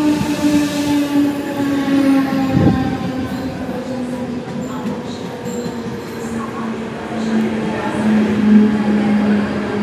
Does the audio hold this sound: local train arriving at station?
yes